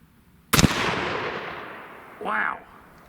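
A single loud, sharp report from a CVA Scout V2 takedown rifle chambered in 300 Blackout, fired outdoors, with a long rolling echo fading away and a brief fainter sound arriving a couple of seconds later.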